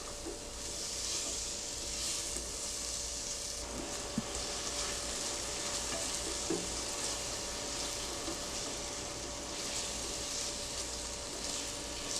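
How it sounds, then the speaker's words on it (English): Potatoes sauté in a pot for a vegan Bahamian conch chowder, giving a steady, moderate sizzle and fry hiss that runs unbroken throughout, with a couple of faint clinks and no talking. "in goes my potatoes. I give this a little saute as well"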